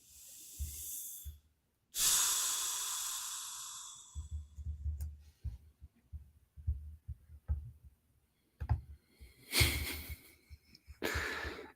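Heavy breathing close to a microphone: loud, rasping exhales come in uneven gusts, with quieter breaths and soft thumps in between and a couple more strong breaths near the end.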